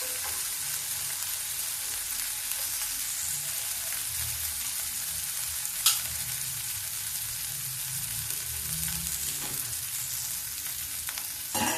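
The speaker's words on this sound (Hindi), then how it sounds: "अब ये प्याज पक रहा है। गैस को कर देते हैं तेज।" Onions fry in a pan over a gas flame for dal with cumin tempering, giving a steady close sizzle that runs throughout, with a single brief clink partway through and no voices.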